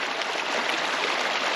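A creek flows steadily at a brown trout fishing spot in autumn, a close, constant rushing and gurgling wash of water that fills the whole moment with no voices.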